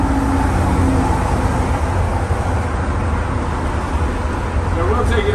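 A 1989 Crown SuperCoach II bus drives along the road, heard from inside as a loud, steady engine drone and road rumble throughout, with a voice speaking briefly over it.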